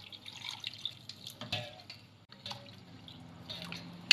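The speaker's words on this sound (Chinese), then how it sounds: "再加水" Water trickles and drips into a pot of pork belly pepper soup with peppercorns, a soft, close splashing that comes in uneven bursts with no talking.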